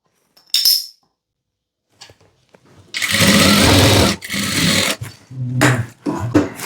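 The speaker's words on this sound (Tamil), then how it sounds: "லைனிங் மெயின் ஃபேப்ரிக் எல்லாத்தையும் வச்சுட்டு இந்த இடத்துல தையல் போடணும்" A sewing machine stitches through blouse lining and main fabric in a boutique tailoring setup: a few short tentative runs, then a sustained loud whirring burst and several shorter stitching runs, close and alone.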